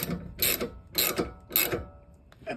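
A wrench tightens a control arm bolt on a BMW 335xi, held with a T40 bit and a 24 wrench, in three evenly spaced ratcheting bursts followed by a fainter fourth, close up.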